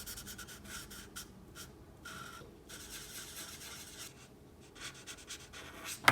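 Coral-coloured pencil colours in part of a drawing of a Pokémon, giving steady, soft scratchy strokes in short rhythmic bursts with brief pauses, close and quiet, without talk.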